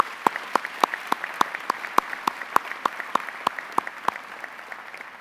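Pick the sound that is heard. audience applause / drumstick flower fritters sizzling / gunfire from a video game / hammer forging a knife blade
audience applause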